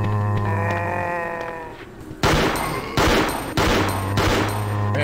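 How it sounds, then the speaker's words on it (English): Gunfire in Resident Evil 2 on PC: three sharp, loud shots about a second apart, preceded by groaning creature cries. "the gunshot sounds great"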